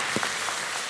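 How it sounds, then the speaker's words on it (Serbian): Steady applause from a studio audience on a TV singing show, a close, dense wash of clapping that fills the whole moment, with a brief voice cutting through near the start. "jedan aplauz"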